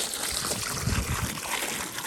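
Water trickling and sloshing while an animal's pool on a Florida homestead is cleaned out, a continuous close wash of running water heard alone.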